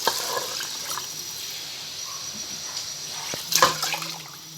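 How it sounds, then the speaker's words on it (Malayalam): Water is poured into a frying vessel holding rice for mutton biryani, a soft running splash with a louder burst near the end, no talking. "ഇനി ഇതിലേക്ക് വെള്ളം ഒഴിക്കാം."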